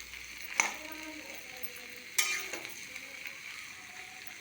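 Ingredients for tomato charu fry in a pan with a soft, steady sizzle, broken by two sharp metallic clanks of a spoon stirring against the pan, close and fairly quiet.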